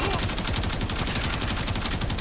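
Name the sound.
Karak Wraith rifle gunfire in video game Warframe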